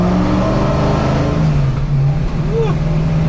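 A 1965 Ford Mustang pulls away loudly from close by, its engine note rising under acceleration and then dropping briefly at the shift from second to third gear before climbing again.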